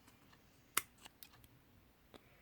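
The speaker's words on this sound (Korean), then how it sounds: "잘 안 잘라지는 분, 분들은 이렇게 가위로 힘차게 잘라줍니다." Scissors snip through a piece of cured resin once with a single sharp, close click, followed by a few fainter clicks and handling sounds in a quiet room.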